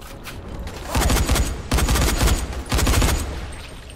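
Several loud, close bursts of rapid gunfire from Dying Light, clustered into three or four volleys with short gaps between them.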